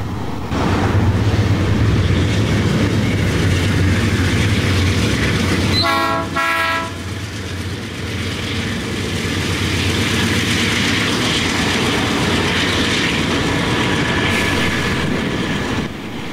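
A Delaware-Lackawanna freight train rumbles steadily along the tracks near Taylor Yard, with a short burst of horn blasts partway through over the continuous low rolling noise.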